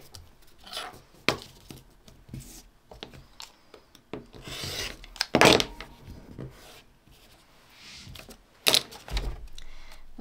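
Folded quilt block fabric is trimmed on a cutting mat, with soft rubbing and sliding, a few sharp rasping cuts, and light taps from handling tools, all close up.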